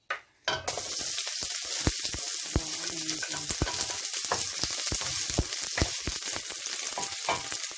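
Onion and garlic hit hot olive oil in a pan for a mild coconut-milk chicken curry, a sharp start followed by steady, loud crackling sizzle with frequent popping spatters throughout.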